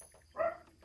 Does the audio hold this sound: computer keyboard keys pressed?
no